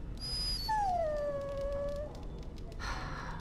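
A dog in Dragon Age: Origins gives a drawn-out whimpering howl, a single rising then falling whine that holds clearly and alone for a second or two.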